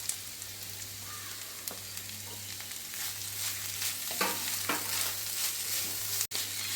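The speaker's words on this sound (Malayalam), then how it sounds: "പാവയ്ക്കായും ക്യാരറ്റും കൂടി അരിഞ്ഞ് വെച്ചിരിക്കുന്നത് ചേർത്ത് നന്നായിട്ട് മിക്സ് ചെയ്ത് കൊടുക്കുക" Bitter gourd and carrot sautéing with onion in a pan give a steady close sizzle, broken by a few scraping stirs and a brief clatter near the end.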